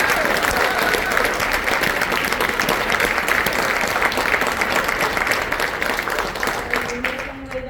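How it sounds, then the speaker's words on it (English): A theater audience gives loud, dense applause after a cast member of a stage show is praised, many hands clapping continuously and close, with crowd murmur underneath before it begins to thin and fade at the end. "deserves a huge round of applause"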